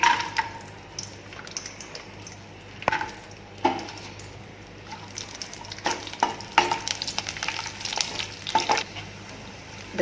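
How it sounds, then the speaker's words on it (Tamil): Cashews fry in ghee in a pan, a steady soft sizzle running throughout while a spoon stirs and scrapes against the pan in irregular clinking bursts, close up. "இந்த முந்திரியை போடுறேன்."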